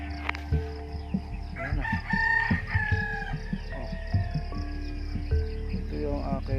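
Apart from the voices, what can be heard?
roosters crowing and chickens clucking on a farm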